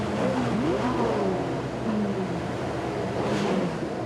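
Car club members rev their engines together at a funeral, a continuous, loud rumbling drone with rising and falling rev sweeps, no voices heard.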